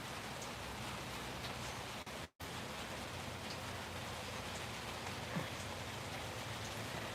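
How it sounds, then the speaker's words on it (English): Steady morning rain falls outside in a dense, even hiss of drops on surfaces, with a brief dropout partway through, heard alone at a moderate, constant level. "I thought I'd just come out here and listen to the rain"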